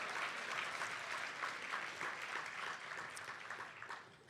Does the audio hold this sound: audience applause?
yes